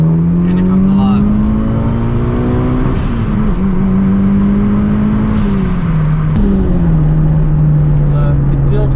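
A Mitsubishi Evo with its EGR and SAS removed accelerates hard in second gear at full throttle, a loud engine note climbing, dipping briefly and climbing again, heard from inside the cabin with someone talking over it.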